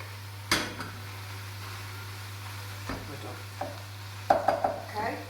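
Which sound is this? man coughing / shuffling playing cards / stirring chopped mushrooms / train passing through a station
stirring chopped mushrooms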